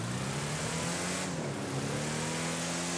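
A race car engine in an off-road driving video game holds a steady, droning tone at moderate level, with no talk over it.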